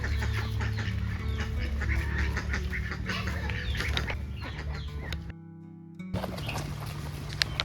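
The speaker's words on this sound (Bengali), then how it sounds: "কি সুন্দর হাঁসগুলো দৌড়াচ্ছে" Ducks running outdoors in a village by a small bridge quack and chatter continuously, with clucking farm birds mixed in, loud and close, a brief lull near the end before the calls resume.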